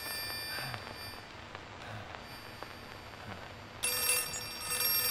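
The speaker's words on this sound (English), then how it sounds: "Is that a phone?" A telephone rings in the horror video game Outlast 2, a faint repeated bell tone under dim ambient noise, then a brighter, louder burst of ringing near the end.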